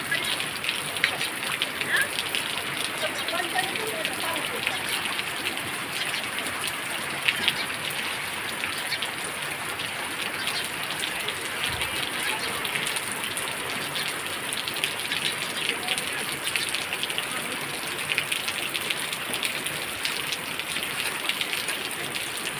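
Rain falls steadily outdoors in a constant, even hiss of drops that lasts the whole stretch without letting up.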